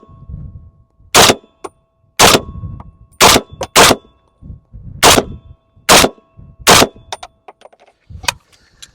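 Sharp, loud rifle shots from an Arsenal Saiga SGL21 Legion, about eight cracks fired at an irregular pace with short echoing decay between them and no talking.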